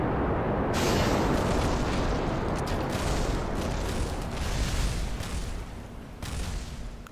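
A rocket launches in the space simulation game Kerbal Space Program, a loud continuous rumbling roar that holds steady for several seconds, dipping slightly and then swelling again near the end.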